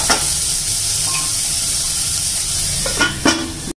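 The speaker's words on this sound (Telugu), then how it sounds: "ఉల్లిపాయలు వేగిపోయాయి చూద్దాం." Onions sizzle and fry in a pan for a spicy rohu fish fry, a steady close hiss with a few brief stirring scrapes near the end.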